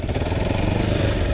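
An off-road motorcycle engine runs during wheelie practice on a green lane, a close, loud, steady pulsing burble with some mechanical clatter.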